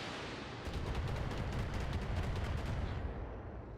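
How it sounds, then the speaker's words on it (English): Missile salvos launching in the mech game Roguetech, a sustained rumbling roar of overlapping booms and whooshes, fairly loud and steady for a few seconds with no talking. "And more missiles."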